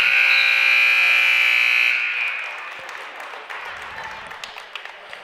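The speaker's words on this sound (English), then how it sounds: "we have an overly aggressive period buzzer" A loud, sustained electronic period buzzer blares for about two seconds at a varsity wrestling dual, then cuts off, leaving a gymnasium crowd murmuring and clapping.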